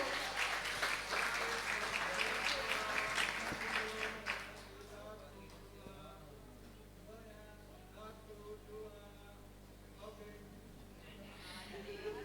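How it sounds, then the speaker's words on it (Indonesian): Audience at a high school graduation ceremony applauding honored students, a loud burst of clapping for about four seconds that drops away, leaving a quieter hall with a sustained tone and faint voices. "Mari kita beri tepuk tangan yang meriah."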